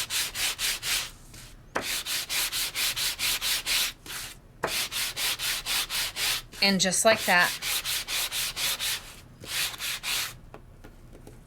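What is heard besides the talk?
sanding paper with sanding block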